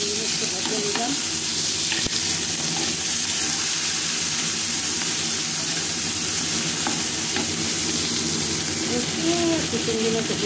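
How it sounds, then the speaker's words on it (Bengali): Shrimp frying in mustard oil in a pan, with a steady close sizzle and crackle running throughout, alongside occasional stirring scrapes and faint background voices. "সাথে চিংড়ি মাছ দেবো, চিংড়ি মাছটা ভাজা নিলাম।"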